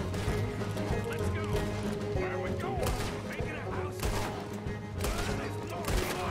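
Gunshots in Red Dead Redemption 2 land as several scattered sharp cracks amid busy game noise, with horse hooves and movement mixed in and a voice talking alongside.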